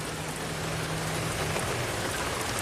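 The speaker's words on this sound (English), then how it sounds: "And it's starting to rain pretty hard again." Heavy rain pours steadily in a parking lot around a Toyota being diagnosed for a no-start fault, a dense, even hiss with no voices.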